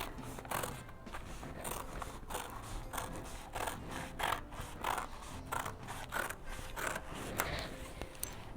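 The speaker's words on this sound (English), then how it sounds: "This is how you cut your circle skirt, and you come to your waist here and cut it like this." Scissors cut through fabric for a circle skirt, a close series of repeated crisp snipping and blade-scraping sounds in an uneven rhythm, with no voices.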